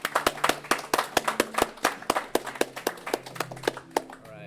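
A small audience at a game jam showcase claps for a team, a sparse scatter of distinct hand claps that thins out over a few seconds.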